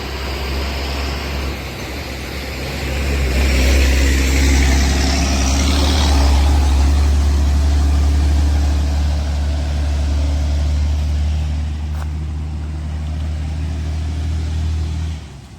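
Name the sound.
vehicle driving over a cracked road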